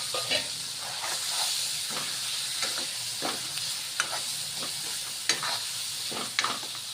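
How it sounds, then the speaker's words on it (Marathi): Boiled potatoes tumble into a pan of sizzling raw-ground masala paste for a spicy potato bhaji, with a steady close frying hiss broken by repeated scraping stirs and soft clatters; no one talks. "आता हे उकडलेले आलू जे आहे हे यामध्ये टाकायचे आपल्याला."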